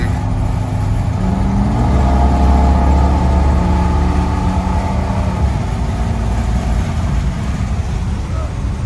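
A 1965 Buick Riviera Gran Sport cruising at about 60 mph, its engine a steady, loud low rumble with road and wind noise throughout, no voices.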